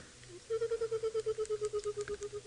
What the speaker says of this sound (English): That's the Burchell's cuckoo.